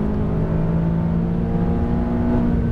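A McLaren 570S on a race track gives a steady, loud engine drone with strong tonal harmonics, holding a sustained rev throughout with no talking.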